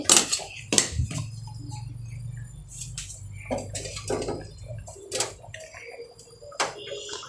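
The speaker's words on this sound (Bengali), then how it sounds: "তো আমি হলুদটা আলুর সাথে মিশিয়ে নিচ্ছি নাড়াচাড়া দিয়ে" Potatoes and turmeric are stirred in a metal pan at home, with scattered spoon scrapes and clinks against the pan, moderately close and irregular, over a low steady hum.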